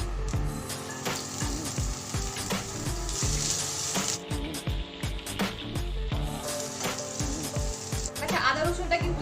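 Chopped garlic and ginger hit hot white oil with whole cumin seeds and fry, giving a steady, close sizzle that holds through the whole stretch under intermittent clatter.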